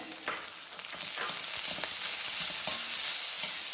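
Freshly grated coconut sautéing in oil in a pan, giving a soft steady sizzle with occasional light stirring scrapes up close, no voices over it.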